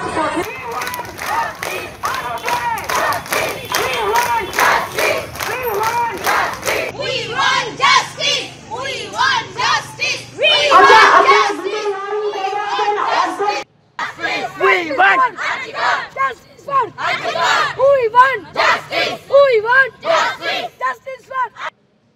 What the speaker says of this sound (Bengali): আমাদের এই পদযাত্রা, এই মিছিল এগিয়ে চলেছে